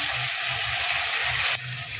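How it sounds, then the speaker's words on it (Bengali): Vegetables frying in a pan for pasta, a steady bright sizzle with faint stirring, continuous and close, with no talk. "সবজিগুলোকে ভালো করে ভাজা করে নিতে হবে।"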